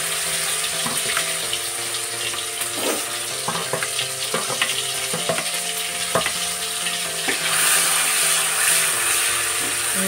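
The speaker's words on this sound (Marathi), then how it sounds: "तेल छान गरम झालं, त्यामध्ये वाटलेला मसाला टाकायचा, वाटण टाकून घ्यायचं" Ground masala paste frying in hot oil, a loud continuous sizzle punctuated by repeated scraping stirs and utensil clicks, steady and close throughout.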